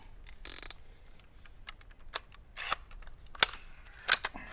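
Springfield Armory M1A air rifle, open sights, shooting JSB pellets: a few sharp snapping cracks and clicks spread over a few seconds amid faint mechanical handling noise, fairly close, with no talking.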